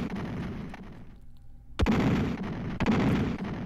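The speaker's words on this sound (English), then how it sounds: "The bombs are gonna explode." Time bombs go off in the game Terranigma: after a quiet hum, one loud deep blast hits, then a second booming explosion follows, both heavy and close.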